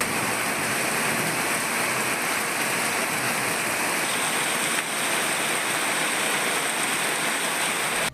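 Steady, dense rain falls at an even, unbroken strength for several seconds with no voices, a constant hiss of drops across a wide area.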